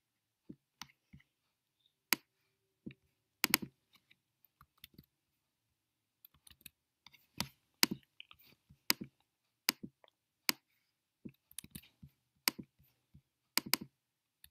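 Keystrokes on a computer keyboard arrive in irregular bursts of crisp clicks, typing out a web address with short pauses between groups of keys, close and clear with no talking.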